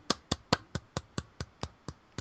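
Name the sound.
weak applause from podcast hosts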